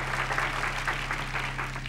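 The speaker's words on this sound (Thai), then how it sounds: "ขอเสียงปรบมือด้วยครับ" Studio audience applause for two quiz contestants in a national quiz competition, even clapping at moderate volume held steady over a constant low hum.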